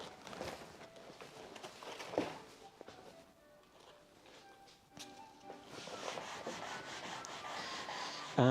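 Sandpaper is rubbed by hand along a wooden baseboard, giving quiet, uneven scraping strokes with pauses and small knocks, growing busier toward the end.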